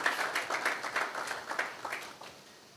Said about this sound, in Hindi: जोरदार ताली बजा के प्रभु को धन्यवाद दें